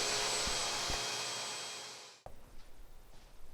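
A saw rips 2x6 wood boards lengthwise into 1.5-inch square strips. It gives a loud, steady whining roar with a couple of short knocks, then spins down and cuts off abruptly, leaving quieter shop noise.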